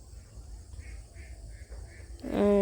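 Farmyard ducks quack while feeding, about four short calls in a row with a louder, closer quack at the end over quiet background hiss.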